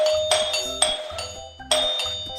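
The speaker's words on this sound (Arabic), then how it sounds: "الجرس مين يدق بقوة كذا؟" A doorbell is pressed repeatedly and forcefully, giving three loud electronic chimes in quick succession, each a bright ringing tone that starts sharply and fades briefly before the next.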